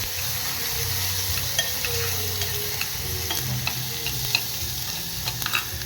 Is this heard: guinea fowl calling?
no